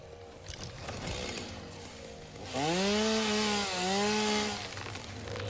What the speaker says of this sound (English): I cannot chop trees down by hand. You need a chainsaw.